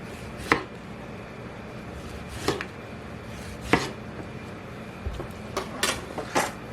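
Several sharp knife cuts through a tomato on a board, spaced irregularly, with a faint kitchen hum between them.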